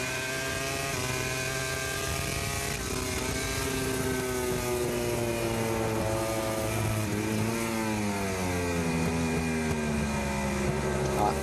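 Valentino Rossi's MotoGP motorcycle engine heard from an onboard camera, a loud continuous high-revving wail whose pitch climbs and dips with gear changes, with wind roar throughout.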